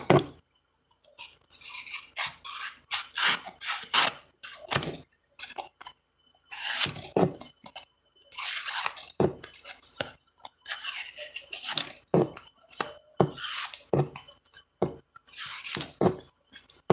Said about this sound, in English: It's cutting apart a Pokemon card.